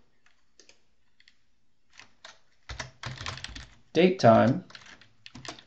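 Computer keyboard keys tapped out in short bursts and clusters while entering programming code, close and clear, with someone speaking over the typing partway through.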